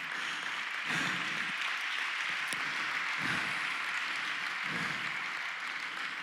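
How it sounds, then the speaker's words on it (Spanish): A church congregation applauds loudly in a steady, dense wash of clapping that holds for several seconds. Faint voices rise now and then beneath it. "Si ese aplauso es para Dios, de lo más fuerte."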